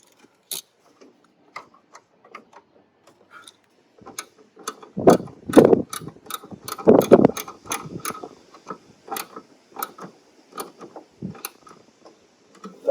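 A ratchet tightens a bolt on a Toyota Sienna sliding door, clicking in quick bursts of rapid ticks with heavier clanks in the middle, close up and mostly free of talk.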